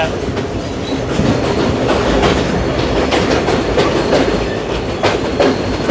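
A Sri Lankan hill-country train runs on its rails near Demodara, a loud, steady rumble with rhythmic clickety-clack of the wheels carrying on throughout.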